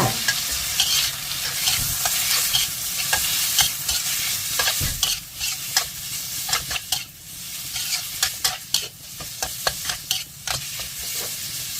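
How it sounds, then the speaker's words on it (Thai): Pork liver is stir-fried with garlic in a hot pan. A steady sizzle runs under repeated scraping and clinking of a spatula, close and moderately loud, with no talking. "ใส่ตับลงไป จากนั้นก็ผัดต่อค่ะ"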